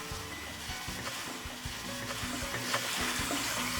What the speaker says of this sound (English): the water coming out of the filter is nice and clear